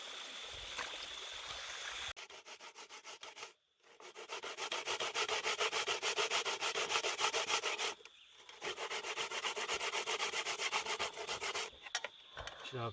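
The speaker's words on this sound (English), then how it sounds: "Coconut them wash. Time to grate them up." Coconut being grated by hand outdoors for a bush-cooked curry: a close, steady rasping scrape in long runs of fast strokes, broken by a few short pauses.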